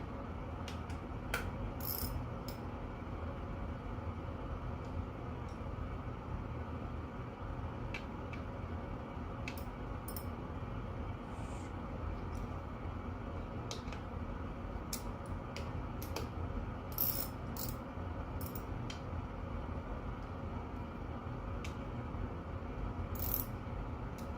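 A ratchet snugs bolts on a 1992 Yamaha Timberwolf ATV, with repeated short clicking bursts scattered over a steady background hum, close and fairly quiet with no talking.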